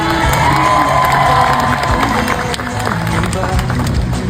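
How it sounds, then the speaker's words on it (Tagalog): A political rally crowd in Quezon cheers, shouts and claps loudly and continuously, a dense roar of many voices with children's shouts mixed in and some rhythmic clapping. "Sa palakpak pa lang naniniwala na po ako."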